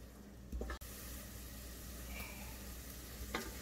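Onions sweating gently in a pan over low heat, kept from browning; a soft, steady sizzle, faint and continuous, with a couple of brief stirring clicks and no talking.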